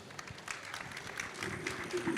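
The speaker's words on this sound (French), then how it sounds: "vous pouvez applaudir." Audience at a French conference on high-performance building envelopes claps briefly, a soft, fairly quiet patter of scattered hands that builds slightly toward the end.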